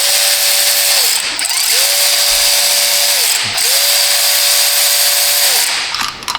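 A hand ratchet on a short extension turns a top bolt on a leaking Kia Sedona, three long loud stretches of clicking with brief pauses between strokes.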